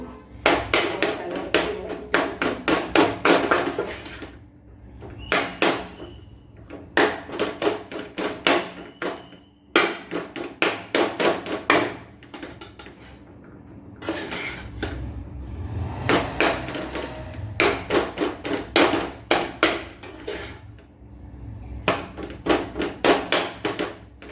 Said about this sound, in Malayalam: ഇങ്ങനെ കുത്തി മിക്സ് ആക്കി കൊടുക്കണം.